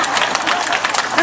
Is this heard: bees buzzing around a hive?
no